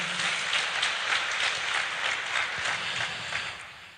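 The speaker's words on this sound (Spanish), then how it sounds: "Démosle un fuerte aplauso" A church congregation claps loudly and steadily after a sermon, a dense, even wash of many hands that holds for several seconds before starting to fade at the end.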